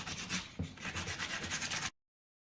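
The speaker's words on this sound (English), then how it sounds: "so I'm just going to clean it up with some sandpaper." Sandpaper scrubbing crud off a part from a Johnson Evinrude 50-75 hp three-cylinder outboard lower unit: close, steady rasping strokes for about two seconds, then silence.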